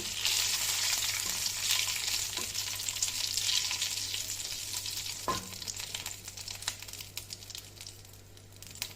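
Dried red chillies, two bay leaves and cumin seeds sizzling in hot oil for tempering, a loud dense crackle near the pan with occasional sharp pops and stirring scrapes, gradually easing.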